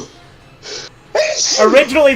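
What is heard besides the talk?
sneeze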